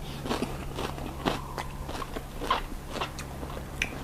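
Someone biting and chewing a spicy Thai chicken feet salad, repeated crunchy bites and wet chewing in an irregular rhythm, close and moderately loud over a faint background hum, no talk.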